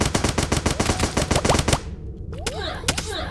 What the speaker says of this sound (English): my fast shooting gun.